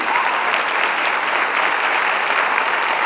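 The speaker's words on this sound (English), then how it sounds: "Let's give them a round of applause one more time." A high school audience gives a dense, sustained round of applause, loud and even throughout with no voices standing out.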